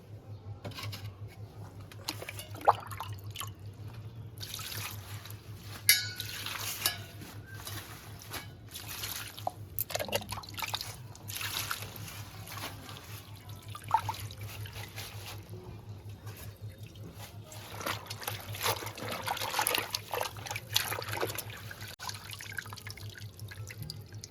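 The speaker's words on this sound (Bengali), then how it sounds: "উচ্ছে পাতাটা একটু আমি ধুয়ে নিচ্ছি এক দুবার ধোয়া হয়ে গেছে আর একবার একটু ধুয়ে নিচ্ছি" Water splashing and dripping as bitter gourd leaves are rinsed by hand, irregular soft trickles and sloshes over a low steady hum, close and fairly quiet throughout.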